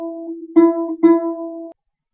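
Plucked string sounding a major third, a lower note followed by two repeated attacks of the higher note, ringing briefly like a doorbell chime; close and clear, then silence.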